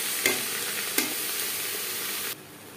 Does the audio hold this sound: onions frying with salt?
yes